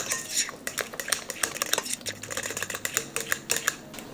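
Banana bread batter being stirred in a bowl, a spoon clinking and scraping against the sides in quick, steady, close strokes, no talking.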